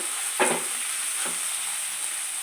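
Chana dal and coconut frying with chili powder, turmeric and salt in a pan, heard as a constant bright sizzle with a couple of soft stirring scrapes.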